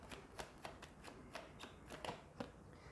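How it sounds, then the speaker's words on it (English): Tarot cards slide and snap as they are drawn one by one from a deck, a quick irregular run of crisp close flicks with no talking. "Okay, so we'll pull out 5 cards."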